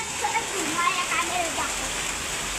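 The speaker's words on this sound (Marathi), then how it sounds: "आता परत जोरात पाऊस आलेला आहे." Heavy rain pours down in a steady, dense rushing wash, with a voice talking faintly underneath the downpour.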